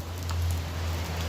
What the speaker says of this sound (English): once the rain subsides